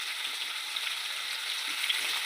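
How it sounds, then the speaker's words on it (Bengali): Potatoes frying in hot oil with salt, turmeric and green chilies for a rohu fish curry, a steady close crackling sizzle that runs without pause. "দেখো আমি লাল লাল করে ভাজছি আলুটাকে।"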